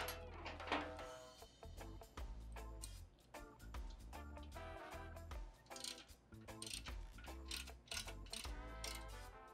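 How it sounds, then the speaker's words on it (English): Two ratchets with sockets turning during a CV carburetor installation on a Sportster motorcycle, rapid clicking pawl ratcheting in quick bursts, close and busy, with no talking. "We're going to have dueling ratchets."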